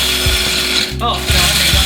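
A food processor chops Oreo cookies in short pulses, a loud mechanical grinding whir with rattling, briefly stopping and restarting, with a voice faintly present.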